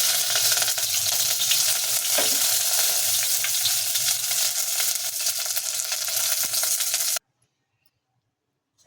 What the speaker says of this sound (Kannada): ನೋಡಿ ಇವಾಗ ಒಗ್ಗರಣೆ ಹಾಕಿದ್ದೀವಿ